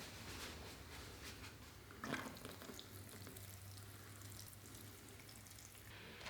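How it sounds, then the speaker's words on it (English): Water runs steadily from a hose or can onto a potted jacaranda grown from a cutting, a soft, continuous outdoor trickle and splash, quiet and without speech. "Now I'll give this a water."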